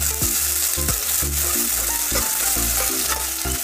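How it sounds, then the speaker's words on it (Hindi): Onions frying in hot mustard oil in a pan, a loud continuous close sizzle broken by repeated scraping and stirring strokes, with no talk. "इसमें अब डालते हैं हम प्याज को अच्छे से फ्राई कर लेंगे"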